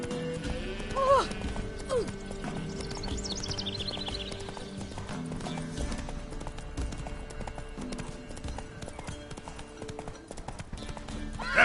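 Roach the horse gallops through a video game world, steady hoofbeat clip-clop running throughout with an occasional whinny near the start, mixed under game music and ambient effects while someone talks over it.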